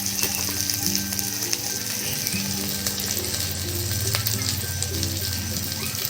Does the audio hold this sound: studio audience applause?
no